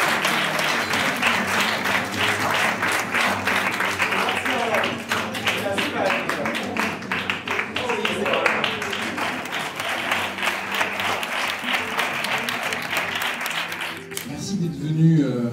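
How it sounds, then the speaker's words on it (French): Sustained audience applause at a citizens' law-writing democracy workshop: dense, steady clapping from a crowd that runs for about fourteen seconds before breaking off, with voices talking over it. "on ne s'applaudit pas comme ça, on s'applaudit comme ça"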